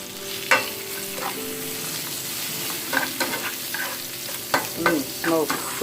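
Shrimp sauté with garlic and ginger in a hot pan, a constant close sizzle broken by repeated stirring scrapes and pops that come faster toward the end.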